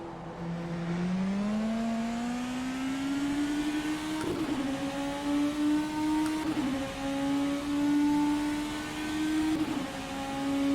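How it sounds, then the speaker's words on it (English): A BMW race car engine in the rFactor 2 racing game revs steadily, its pitch climbing and dipping through gear changes for about ten seconds, loud and continuous with no voices over it. "It's like back when BMW race cars actually sounded good."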